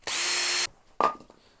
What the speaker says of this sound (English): It's a piece for your power drill. You just put it on and it chops wood for you, or splits.